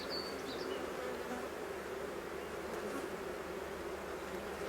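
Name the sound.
bees buzzing at an opened beehive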